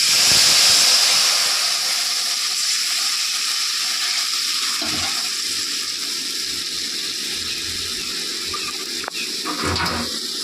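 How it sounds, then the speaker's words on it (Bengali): Mustard seeds, white and black, and the water from ground tomato go into a sizzling tempering in the pan for a monsoon hilsa recipe. A loud, steady hiss and sizzle lasts throughout and slowly eases, with a few soft clicks near the end. "এর মধ্যে দিয়ে দিচ্ছি সর্ষে, সাদা কালো সর্ষে আর একটা টমেটো বেটে নিয়েছিলাম তার জল"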